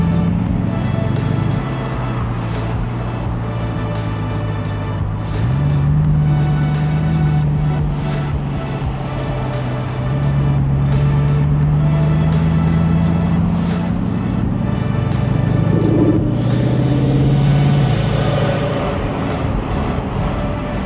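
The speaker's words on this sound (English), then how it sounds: "That's just going 40 miles an hour, and you could hear it spool like that." A Bugatti Mistral cruises at about 40 mph on a Miami drive, its engine giving a steady loud drone with rising and falling spooling tones heard from inside the car.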